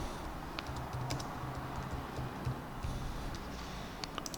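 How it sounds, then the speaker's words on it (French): Computer keyboard keys pressed in a steady run of soft, quick clicks, close and fairly quiet over a hum of background noise, with no one speaking. "on peut utiliser les touches de direction du clavier"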